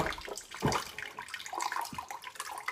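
Water pours and splashes from a tilted Steampure water distiller being emptied, an irregular close gurgling stream with a couple of sloshing surges, fairly quiet.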